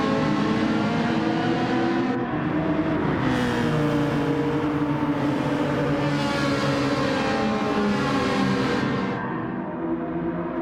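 Group 4 GT race cars roar around the Fuji circuit in a racing video game, a dense, continuous engine drone with rising and falling revs and passing cars, loud and steady throughout.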